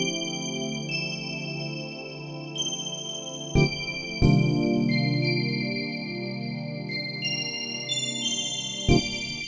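Stacked Korg Triton synth pads on the warm pad preset hold soft sustained chords that shift every few seconds, sitting back quietly with a few brief low thumps between changes.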